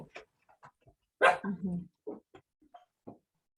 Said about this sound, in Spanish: Mi perra que ladra.